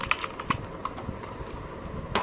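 Quick, irregular clicking of keys on a Portronics Hydra 10 65% wireless mechanical keyboard, close up and fairly quiet, with no voice over it.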